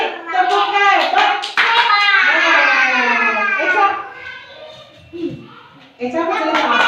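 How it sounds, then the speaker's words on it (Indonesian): Children in a classroom clap their hands in rhythmic bursts while chanting together, with a teacher's voice joining between rounds of claps. "Tepuk hebat buat Santi."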